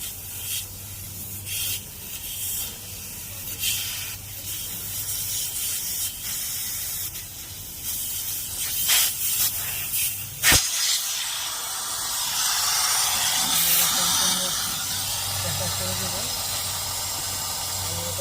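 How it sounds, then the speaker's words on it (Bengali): Pressure vents from an air conditioning system in a loud, sustained hiss that bursts in sharply and then holds steady, following a quieter stretch of faint rubbing and voices. "আমরা এটাকে এখন প্রেশার ছেড়ে দিয়ে আমরা ভ্যাকিউমে রাখবো"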